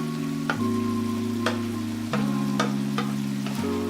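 Fried tempe with petai stirred in a pan, with light spatula clicks at irregular intervals over a soft frying sizzle and a steady low electrical hum.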